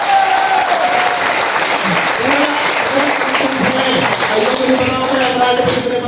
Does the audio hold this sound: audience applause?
yes